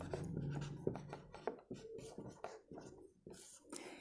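Chalk or a marker scratches across a board in short, irregular strokes, fairly faint and close, while writing out a mechanics problem.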